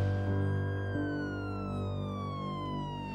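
A police siren wails close and steady with a slowly falling tone, loud and alone with no talk.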